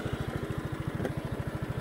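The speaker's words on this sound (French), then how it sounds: "Voilà le tracteur. Donc voilà, là on va aller faire un tour avec." A Honda ride-on lawn tractor engine running at a steady idle, its low, even putter thumping in a regular rapid rhythm, close by and with no talking.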